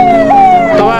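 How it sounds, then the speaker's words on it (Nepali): A fire engine siren wails as it arrives at a large fire in Butwal, a steady high tone that dips and rises again, loud and close, filling the whole short moment. "तपाईँहरू देख्न सक्नुहुन्छ अब दमकल पनि आयो"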